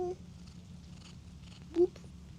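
A cat gives two brief, close meows, one at the start and one near the end, over a soft, steady low purr.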